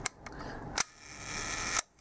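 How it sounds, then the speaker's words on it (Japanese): The shutter of a 1953 Leica Barnack IIIf with a red dial fires at a one-second speed. A sharp, close click opens it and a second crisp click closes it a second later, after a couple of small mechanical ticks. "シャッターは低速の1秒から見ていきますね。"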